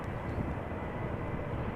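A Ryanair Boeing 737-800 airliner at Amsterdam Schiphol Airport gives a steady, broadband jet engine roar, moderately distant and continuous, with no talk.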